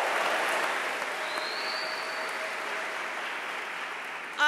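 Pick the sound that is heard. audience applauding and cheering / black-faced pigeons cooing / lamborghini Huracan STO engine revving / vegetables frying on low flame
audience applauding and cheering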